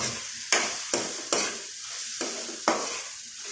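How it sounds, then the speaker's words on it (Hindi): Masala spices for chicken biryani fry in a pan, their sizzle broken by about five or six sharp stirring scrapes at an irregular pace, close up and with no talking. "और मसाला को भी थोड़ा अच्छा से भूनेंगे।"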